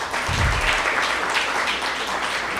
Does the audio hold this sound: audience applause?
yes